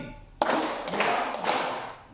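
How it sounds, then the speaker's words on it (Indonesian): Children in a classroom clap together three times, three sharp, close group claps spaced evenly about half a second apart with no talk over them. "Kalau siang, anak tepuknya 3 kali."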